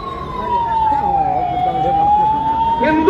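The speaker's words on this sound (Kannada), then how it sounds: "ಬೇಗ ಬೇಗ ಆಂಬ್ಯುಲೆನ್ಸ್ಗೆ ದಾರಿ ಮಾಡಿಕೊಡ್ಬೇಕು" An ambulance siren wails steadily and loudly as it passes through a crowd at a street protest, its pitch dipping slowly then rising again with no voices clear above it.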